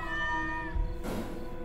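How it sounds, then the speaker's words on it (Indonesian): A cat in the horror video game DreadOut 2 gives a single tonal meow that fades out, followed by a soft thud and a hiss of game ambience. "Kok ada seorang kucing?"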